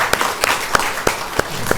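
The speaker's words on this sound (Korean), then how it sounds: "우리 하나님께 영광의 박수 한번 돌려드릴까요?" Claps ring out in a church congregation during a service, a handful of sharp, evenly spaced strikes in a steady rhythm that stand out clearly against a quiet room.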